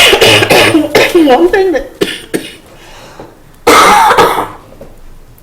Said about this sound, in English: I would really like to stop coughing